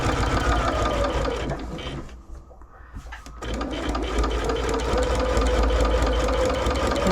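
A sewing machine stitches a rag quilt seam with a fast, loud mechanical chatter that pauses briefly, then resumes at a steady pace as it back stitches across an intersecting seam.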